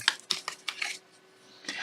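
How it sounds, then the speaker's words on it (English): Quick rapid flicks and riffles of Lord of the Rings tarot cards being shuffled, a burst of crisp clicks close by, then a brief pause and another riffle. "Let's see how this deck shuffles."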